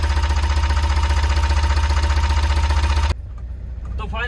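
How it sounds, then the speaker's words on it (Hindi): A Tata Intra V10 engine, fresh from a timing belt change, idles close by with a steady, even rhythmic chug for about three seconds before it shuts off into quiet background noise. "स्मूथ आवाज है बिल्कुल इंजन की।"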